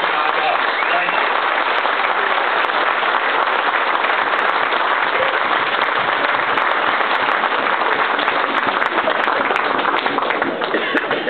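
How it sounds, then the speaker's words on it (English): Sustained, dense applause from an audience at an awards dinner, steady and loud throughout with many hands clapping together and no break. "Let's give a round of applause for President Dan Kaplan, the Shields Board."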